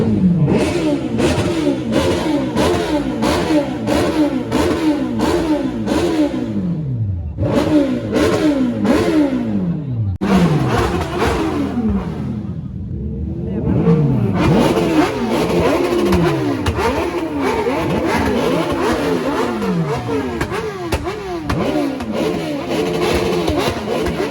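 Superbikes at a meetup in Dhanbad, Jharkhand, rev their engines again and again, with loud overlapping rising and falling howls and a few brief lulls between bursts of throttle, close by.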